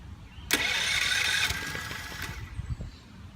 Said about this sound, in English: I'll go ahead and try to give it a crank.